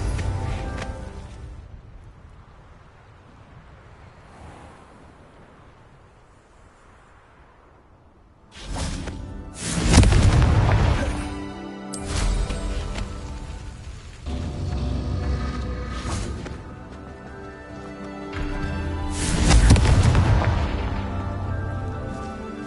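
Booming blasts from a fiery Confringo blasting spell in a Harry Potter-style game, three loud bursts with rumbling low ends and whooshing tails spaced several seconds apart, following a quieter hissy stretch.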